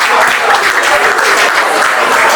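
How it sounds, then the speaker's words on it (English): Audience applause for the observers at a ceremony: dense, steady clapping from a large crowd, loud and close, holding evenly throughout with no voices on top. "A round of applause for the observers"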